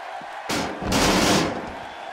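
Arena crowd in the WWE 2K16 wrestling video game swells into a loud roar of cheering after a sharp impact, peaking for about a second before easing back down.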